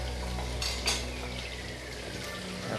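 Tomatoes with spices sizzle steadily in a hot pan for an Assamese fish curry, a continuous close frying hiss with a brief utensil clink near the start and no talking.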